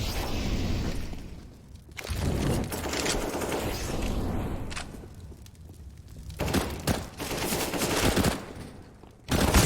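Rapid gunfire bursts from a Counter-Strike match on the Mirage map, loud volleys of shots with sharp cracks and brief pauses between bursts, close and dominant throughout.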